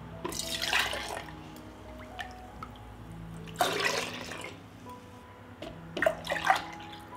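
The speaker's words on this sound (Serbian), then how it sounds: "Sada mleko sipam u čiste tegle" Milk poured into clean glass jars, a soft liquid splash in three separate bursts with trickling and dripping between them, against a faint steady background hum.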